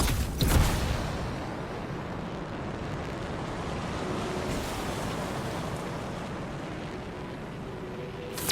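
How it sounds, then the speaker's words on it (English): Waterfalls in the video game Anthem give off a steady, broad rushing roar that holds evenly throughout, with no voices. "Look at the waterfalls, they're going backwards."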